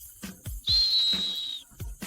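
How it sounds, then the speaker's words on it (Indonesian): A referee-style whistle is blown once in a long, shrill, steady blast lasting about a second, set between short bursts of other noise at a football match. "Tiup peluit?"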